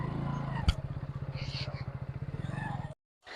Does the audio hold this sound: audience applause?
no